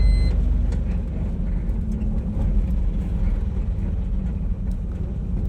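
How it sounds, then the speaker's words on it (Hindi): Traffic on a road at night, a steady close rumble of passing vehicles that stays loud and constant throughout. "देख लो भाई साहब, इस रोड पे 40-40 लाख की गाड़ी चलती है"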